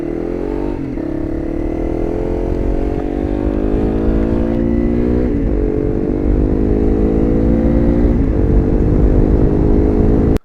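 A Honda CRF300L Rally motorcycle engine drones steadily and loudly, its pitch rising gradually as it accelerates through a rain-soaked ride on the Oregon backcountry discovery route, with brief gear-shift dips and no talking.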